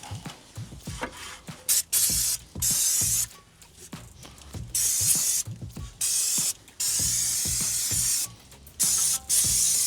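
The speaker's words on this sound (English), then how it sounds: "Get your brake and clutch cleaner." Brake and clutch cleaner aerosol sprays onto the rear brakes of a Mercedes SL R230 in repeated loud hissing bursts, each followed by short clicks and handling noises between sprays.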